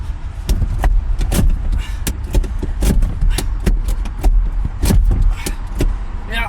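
A Honda Civic handbrake is pulled and worked inside the car, giving a series of sharp clicks and clunks at an irregular rhythm, close and fairly loud.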